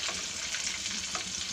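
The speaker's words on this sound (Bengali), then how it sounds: "এখন এই তেলের মধ্যে আমি ফিশটা ভেজে নিব" Fish frying in hot oil, a steady close crackling sizzle that runs without pause and without voices.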